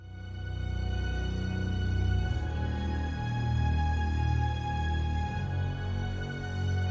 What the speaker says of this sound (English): I'm using violin harmonics and violin sol tasto,